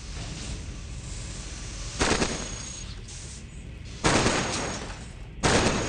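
Gauss cannons fire in the robot roguelike Cogmind, three sharp loud blasts spaced a couple of seconds apart, each decaying quickly over a low rumbling background.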